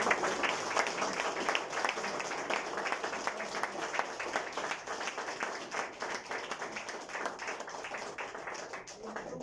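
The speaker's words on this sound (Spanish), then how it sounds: "Denle un fuerte aplauso, Señor." A church congregation applauds at a Sunday service, a dense, steady wash of many hands clapping that fills the room evenly from start to finish, with voices mixed faintly into the crowd noise.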